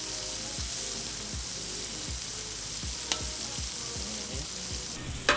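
Food sautés in its own juice on a Blackstone griddle, a steady bright sizzle filling the clip with soft scraping clicks of a spatula recurring throughout, close and even in level.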